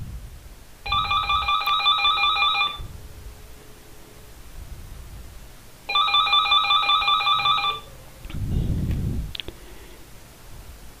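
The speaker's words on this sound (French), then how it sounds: "le téléphone va continuer à sonner" A telephone rings during a callback, two long electronic ring bursts of about two seconds each separated by a pause, loud and close over faint background hiss, followed by a brief muffled rustle.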